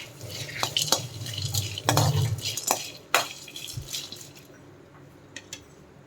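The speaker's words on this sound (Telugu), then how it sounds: "ధనియాలు, పుటానాలు, ఎండు కొబ్బరి కొంచెం తీసుకొని ఇవి కొంచెం రోస్ట్ చేసుకోవాలి." Coriander seeds, roasted gram and dry coconut are dry-roasted and stirred in a pan, with scraping strokes of a spatula, a few sharp metallic clinks and soft rattling that fades to a quiet pause near the end.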